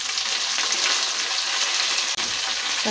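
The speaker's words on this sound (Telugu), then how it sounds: "ఇందులోనే కాకరకాయ ముక్కలు కూడా వేసేసుకుందాం" Pieces of bitter gourd sizzle loudly in hot oil in a pan, a steady, dense frying hiss that holds throughout with a brief dip near the end.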